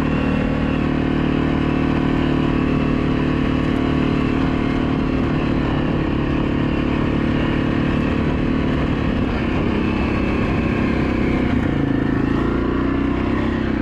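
A Yamaha Grizzly 700 ATV engine drones at a steady, loud pitch while it makes an easy run down and back. The low rumble holds continuous with slight pitch shifts and no voices.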